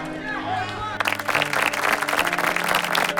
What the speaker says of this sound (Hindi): इस दृश्य को देख सभी जोर जोर से तालियां बजाने लगते हैं।